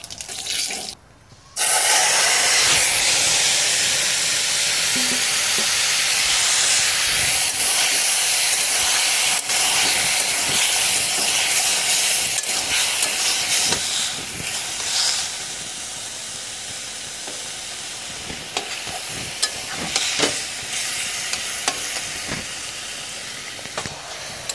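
Radhuni seeds hit hot mustard oil for tempering a village curry of taro stems and jackfruit seeds. After a brief quiet start, a loud, steady sizzling hiss bursts in and holds for the rest of the clip, close and with no voices.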